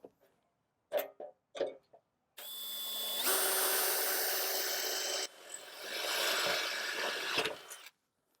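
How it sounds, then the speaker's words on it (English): A power drill fitted with a quarter-inch bit bores holes in aluminum for mounting a motorized retractable screen housing, two sustained whining runs with a brief dip between them, after a few short taps and knocks. "start drilling your holes."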